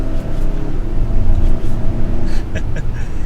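A 2022 Hyundai Santa Cruz Limited AWD pickup accelerates hard to 60 mph, its engine droning loudly under strong road and wind rumble heard from inside the cabin.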